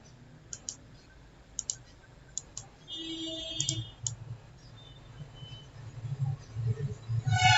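Computer mouse clicks while working in MS Excel 2007, sharp single and double clicks spaced irregularly over a quiet room hum, with soft keyboard-like ticks and faint background sounds.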